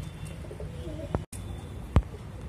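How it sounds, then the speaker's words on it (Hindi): A Saharanpuri breed pigeon coos softly at close range in a loft, low murmuring calls over a faint background hum, broken by a couple of sharp knocks or taps. "एक कबूतर ये है फ्रेंड्स सहारनपुरी मेल, फीमेल है"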